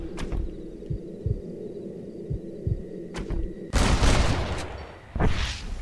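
Gunshots in the video game Red Dead Redemption, a double headshot: a few sharp broadband cracks close together over a low, busy rumble of game ambience, fairly loud and with no talk.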